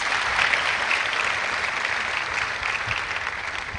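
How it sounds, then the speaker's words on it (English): An audience at a forum event gives a sustained round of applause, dense, steady clapping filling the room and tapering slightly toward the end. "Another round of applause for him, please."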